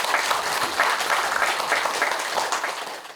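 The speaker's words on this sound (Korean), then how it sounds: "큰 박수 부탁드립니다" An assembly hall crowd applauds at a Buddhist dharma ceremony for a temple's representative monk, a dense, continuous burst of clapping that holds strong and fades slightly at the very end.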